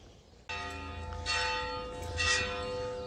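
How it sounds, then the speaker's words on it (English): Church bell ringing in the village of Polop, Alicante, sustained ringing tones that begin suddenly and swell twice, moderately distant and faint over outdoor background, no talking. "The church is always making a noise."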